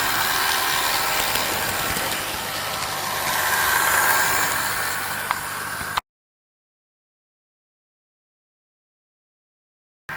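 A Bachmann BR green Class 20 model diesel locomotive runs with a steady, faint mechanical motor hum for about six seconds, then silence.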